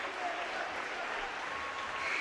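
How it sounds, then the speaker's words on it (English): Home crowd at a high school boys basketball game, Danville at Plainfield, applauding and cheering the seniors, a steady broad wash of clapping that holds evenly throughout without a break. "just to give the home fans the chance to cheer for the seniors"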